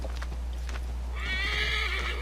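A horse in Assassin's Creed 3 lets out a loud, shrill whinny that rises and wavers, preceded by a few soft hoof clops against a steady low background hum, with no talking.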